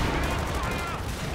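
Dense, rumbling battle gunfire and explosions from Company of Heroes 2, with units under heavy fire; a loud, continuous burst throughout the short stretch.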